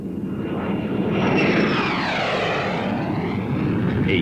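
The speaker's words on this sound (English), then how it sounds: "A U.S. Navy F-8U Crusader and two little fragile fighters from another time." A US Navy F-8U Crusader and vintage fighter planes fly past at an air show, a loud, steady roar of aircraft engines with a sweeping pass that rises and falls in pitch, continuous throughout.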